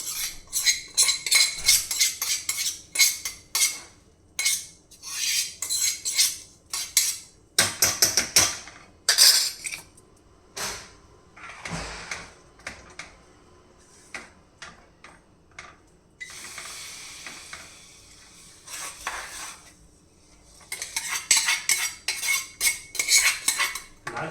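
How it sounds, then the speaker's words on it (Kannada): A spoon stirs fried pieces into mango rabdi in a metal vessel, with repeated clinks and scrapes in bursts, close and fairly loud, pausing between strokes and picking up again toward the end, no voices. "ನಾನು ರಬಡಿನಲ್ಲಿ ಮಿಕ್ಸ್ ಮಾಡ್ತೀನಿ ಎಲ್ಲ ರಬಡಿಗೆ ಮಿಕ್ಸ್ ಮಾಡ್ತಾ ಇದ್ದೀನಿ"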